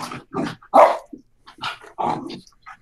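An excited dog barks in several short, loud bursts, with whimpering and growly yelps in between, close by and with no talking.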